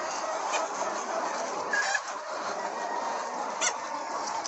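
A flock of Golden Red Arab village chickens clucks and murmurs at a moderate distance, a continuous soft fowl chatter with a couple of slightly louder calls and no talking.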